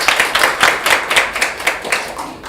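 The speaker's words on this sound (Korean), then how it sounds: "큰 박수로 맞이해 주시기 바랍니다." Rhythmic audience clapping welcoming a professor at a policy seminar, a loud close series of regular claps without talk.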